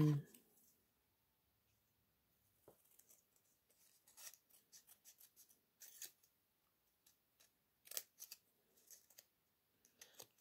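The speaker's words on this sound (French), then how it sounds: "Je vais recouper un peu. découper un peu, parce que c'est un peu moche." Scissors snipping ribbon while trimming a bow on a small handmade pouch; a quiet series of sharp, irregular clicks and snips, close and faint, with soft handling sounds between them.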